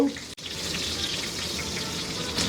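Spring onion stems frying in about a tablespoon and a half of oil over high heat, a steady broadband sizzle with watery crackle running evenly throughout, with one brief dropout near the start.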